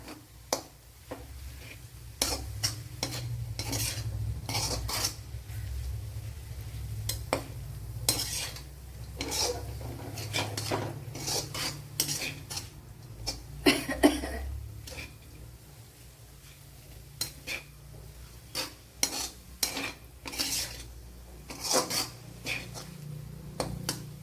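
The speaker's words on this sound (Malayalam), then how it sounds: "അപ്പോൾ നല്ലതുപോലെ ഇതൊന്ന് കുഴച്ചെടുക്കാം" Okra chutney being mixed and kneaded by hand in a bowl, producing soft squelching and irregular scraping rubs against the dish, close and fairly quiet, with no talking.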